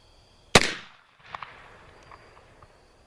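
An 1860 Army black powder revolver fires a single loud, sharp shot that rings and decays, followed by faint distant echoes and small knocks in a quiet outdoor space.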